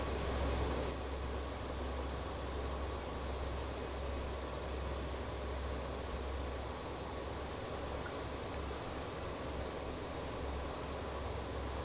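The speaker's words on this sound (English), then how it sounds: "let's taxi out to the runway" Just Flight BAe-146 airliner in Microsoft Flight Simulator 2020 taxis to the runway, its jet engines giving a steady, even whine and low hum, constant and moderately quiet with no talking.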